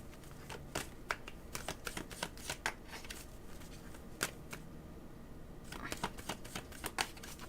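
A deck of playing cards shuffled close up, with repeated crisp riffling bursts and soft flutters over a faint background hum, several shuffles in a row with short pauses.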